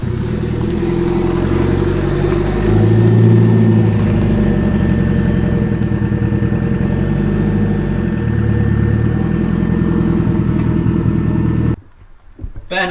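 A car engine runs steadily at close range with a low, throbbing idle and slight revving swells while the driver works a badly worn clutch, then cuts off abruptly near the end.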